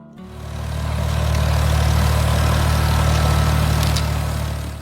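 A Ford 2000 tractor engine running, a loud, steady mechanical chugging that swells in at the start and holds evenly close by, fading slightly at the end, with no voices.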